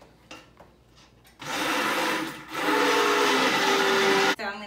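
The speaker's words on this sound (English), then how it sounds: "I'm gonna do it as quickly as I can with our stick blender" A stick blender whirs loudly through cold process soap batter, switching on after a few soft clicks and running in a steady high buzz before cutting off briefly near the end.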